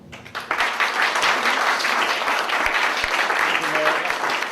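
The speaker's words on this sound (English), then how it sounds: "Give a round of applause." An audience claps steadily after a speech at an International Day of Peace event, a dense, sustained wash of applause that starts sharply and stays loud throughout, with voices faintly mixed in.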